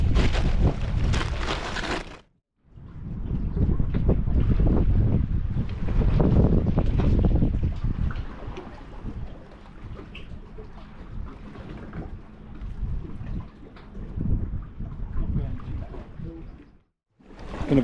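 Strong sea wind buffets the microphone on a fishing pier, a loud roaring rumble that swells and eases in gusts, briefly dropping away twice before surging back.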